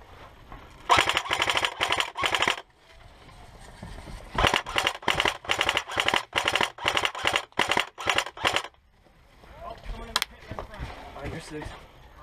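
An airsoft gun fires outdoors during a firebase assault game, two long bursts of rapid, evenly spaced snapping shots close to the microphone, separated by a pause and followed by quieter field noise.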